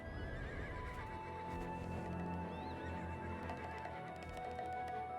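Horses in the video game Black Desert whinny and snort over a dense, droning background with hoof clatter, the neighs repeating amid a busy layered soundscape.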